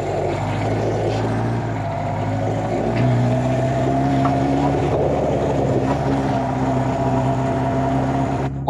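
A Kawasaki Z-series motorcycle engine with carburetors idles and revs in a garage, a steady, close throaty drone that rises in pitch and holds loud without pause.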